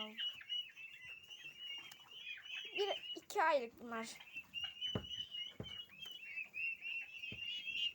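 Young chickens cluck and peep close by in quick, scattered calls, while a person speaks briefly over them.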